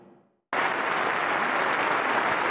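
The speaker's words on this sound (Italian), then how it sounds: "L'applauso lungo 2 minuti che accoglie Papa Francesco al Parlamento europeo." Long, loud applause welcoming Pope Francis at the European Parliament, which bursts in abruptly after a brief fading tail and holds as a dense, unbroken roar of many hands.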